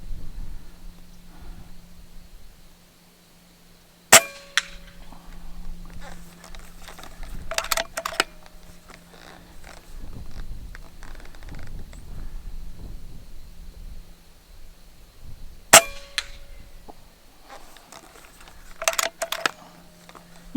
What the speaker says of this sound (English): Shooting cans, having fun.